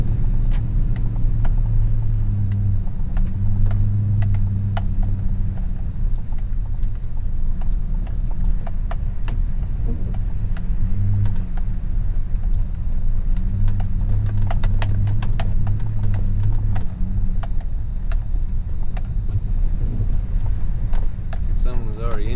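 Toyota Tundra pickup rolling slowly along a wet site road, a steady low engine drone with intermittent crunching and clicking from the tires over gravel, no one speaking.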